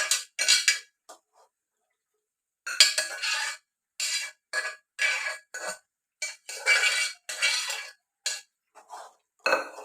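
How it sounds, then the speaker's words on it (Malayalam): Chickpea curry with tomato and onion being stirred in a pot, a spoon scraping and clinking against the metal in repeated bursts separated by short pauses, close and fairly loud, with no talking. "നല്ലപോലെ ഇളക്കി മിക്സ് ചെയ്ത് കൊടുക്കുക"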